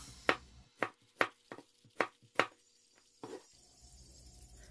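A knife slices garlic thinly on a cutting board, giving about seven sharp, crisp cuts in a fairly even rhythm, close and clear, followed by a softer scrape.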